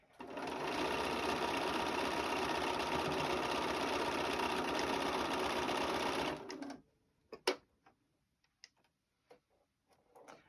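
A sewing machine runs steadily for about six seconds while stitching a quilt block for a Valentine's Day star table topper, then stops, leaving a few scattered clicks and handling taps.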